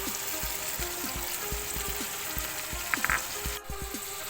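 Pork sizzles in a pan with garlic, onion and tomato, a steady close crackling fry with rhythmic low knocks throughout and a brief clink of utensils near the end.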